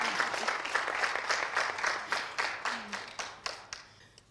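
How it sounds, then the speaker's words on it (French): Audience applause at a Valentine's Day couples' contest evening, a steady patter of hand claps from a modest crowd that gradually thins and fades out toward the end. "Merci d'applaudir."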